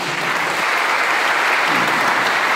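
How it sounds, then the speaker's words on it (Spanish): Sustained applause from a crowd, steady and dense clapping filling the whole stretch without a break. "Los aplausos van a ser hasta el final."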